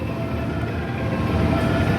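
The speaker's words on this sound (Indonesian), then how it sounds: "Di stasiun Karawang ini KA Blambangan Express berhenti normal ya" KA Blambangan Express passenger train standing at Karawang station, a loud steady rumble and hum of idling rolling stock with no distinct clatter and no talking.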